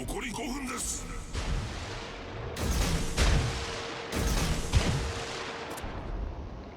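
Naval guns fire in the World of Warships video game, heavy booming salvos repeating every second or so over a constant sea and engine rumble, while someone talks over it.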